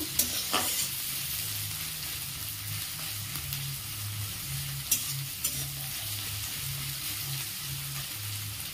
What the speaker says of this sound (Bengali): পেঁয়াজ, রসুন আর কাঁচা লঙ্কাটা নিয়ে হালকা একটু ভেজে নেব